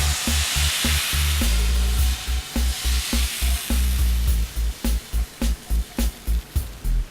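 Steady loud sizzling of Bulgarian pancake batter frying in a hot pan, broken by regular scraping or tapping strokes that grow more rhythmic toward the end.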